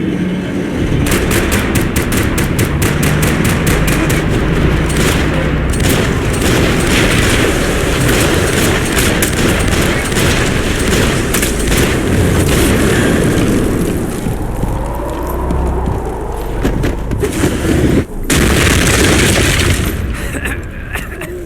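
Heavy gunfire and booming explosions fill a Max Payne 3 shootout at the docks, loud and continuous, with rapid bursts of shots and deep blasts layered throughout.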